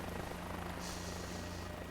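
A helicopter in a flight simulator game set at Epcot, Disney World, gives off a steady, even rotor and engine drone throughout, with no talking.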